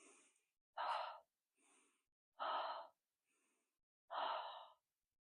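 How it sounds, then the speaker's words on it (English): Slow breathing during a relaxation practice, with three long, loud exhales out through the mouth, each followed by a silent pause and a faint, softer inhale. "inhale to the count of 5 and exhale to the count of 6"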